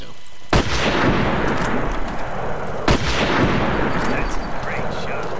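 Two loud booming rifle shots ring out in the Deer Hunter 2003 hunting game as a doe is shot, each followed by a long rumbling echo over a constant outdoor background.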